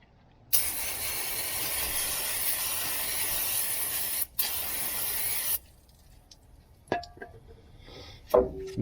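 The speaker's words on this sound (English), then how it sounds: "I am going to use the brake cleaner to clean a little bit of this dust out of this" Brake cleaner sprayed onto a dusty brake caliper of a 2014 Ram 1500, two long, loud hissing bursts with a brief pause between, followed by quieter clicks and handling noises.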